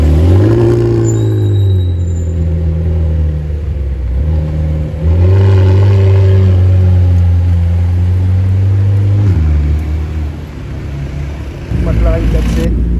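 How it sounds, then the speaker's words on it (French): A McLaren 4C supercar idles and revs on a Paris street, its loud, steady engine drone swelling and dipping close by for several seconds, with a voice speaking over it. "McLaren 4C, au détour d'une rue de Paris. Écoutez le bruit."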